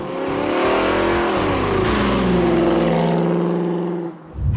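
Restored Ford Mustang coupe accelerating out of a corner, its engine revving loud and close with a rising then steady growl before easing off at the end.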